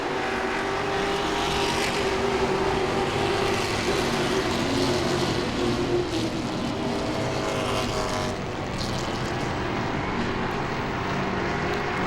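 Grand Stock race cars roar around Langley Speedway in a loud, continuous, dense engine drone as the pack passes, with no gaps or voices.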